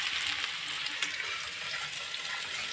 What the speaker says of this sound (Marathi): मी त्याच्यामध्ये कांदा टाकले